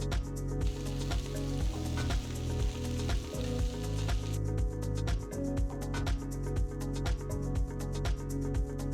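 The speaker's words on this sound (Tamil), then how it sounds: "ஸ்டோவை ஹை ஃப்ளேம்லேயே வச்சு ஒரு அஞ்சு நிமிஷம் நல்லா வதக்கி எடுத்துக்கலாம்" Small potato pieces sauté in a pan over a high flame, giving a continuous crackling sizzle with stirring scrapes, close and steady, with no talking.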